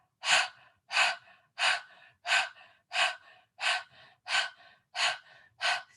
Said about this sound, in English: do breath of fire through your mouth